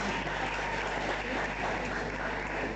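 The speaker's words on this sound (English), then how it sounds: "Please, a round of applause to ourselves." Conference attendees at a university research gathering applaud themselves, a steady, even patter of clapping heard at moderate distance over a low background hum.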